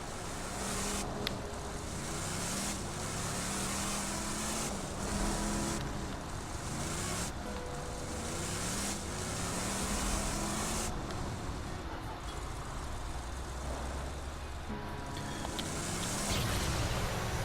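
A car in the video game Borderlands 2 drives along with a steady, loud engine drone and rushing wind noise, punctuated by occasional bumps and thuds, with no talk over it.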